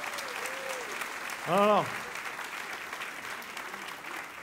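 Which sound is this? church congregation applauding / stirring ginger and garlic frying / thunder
church congregation applauding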